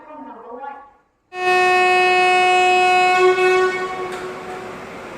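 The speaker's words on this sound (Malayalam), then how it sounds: "നമ്മുടെ കണ്ണൂർ കോയമ്പത്തൂർ എക്സ്പ്രസ് അങ്ങനെ കൃത്യം 6 മണിക്ക് തന്നെ ഇപ്പോൾ ഈ കണ്ണൂർ റെയിൽവേ സ്റ്റേഷനിൽ നിന്നും പുറപ്പെട്ടിരിക്കുകയാണ്" The Kannur–Coimbatore Express passenger train sounds a long, loud horn blast as it departs Kannur railway station, preceded by brief talk, then rumbling on as the horn fades.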